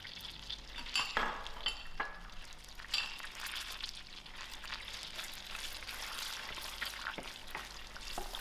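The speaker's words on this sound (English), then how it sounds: "I'm going to add my sultanas in and also give this a quick fry." Almonds and sultanas frying in a pan for a dry vermicelli dish, a quiet, steady sizzle broken by sharp metallic taps and scrapes of a spoon stirring against the pan.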